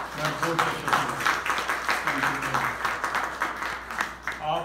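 A crowd claps in thanks for board members at a church farewell gathering, a moderate rhythmic patter of many hands lasting several seconds with some voices mixed in.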